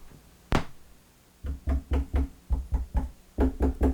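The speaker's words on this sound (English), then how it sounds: "They do seem to have a different resonance when I tap the needle on the record when it's idle." A stylus on an idle record on a Technics SL-1200MK7R turntable is tapped, giving one sharp knock followed by rhythmic bursts of quick, dull resonant taps, close and without talk.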